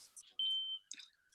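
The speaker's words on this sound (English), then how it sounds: "the chirping sound that only seems to happen at 3 a.m.?" A smoke alarm gives a single short, high electronic chirp, thin and fairly faint, with a few brief clicks and bits of room noise around it.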